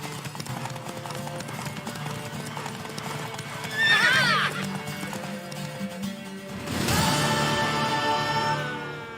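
A horse in The Witcher 3: Wild Hunt, with steady clip-clopping hooves throughout, a shrill neigh partway through and another louder whinny near the end, all close and prominent.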